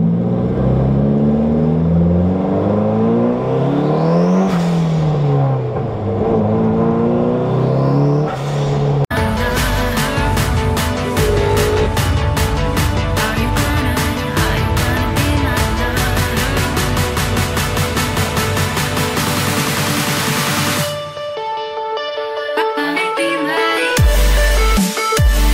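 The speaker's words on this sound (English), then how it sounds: "We'll get one last little first gear pull here." A 1997 Volkswagen Jetta Mk3 pulls hard in first gear, engine note climbing through a couple of rising sweeps, then a long loud buzzing high-rev stretch before backing off to a lower rumble near the end, with no talking.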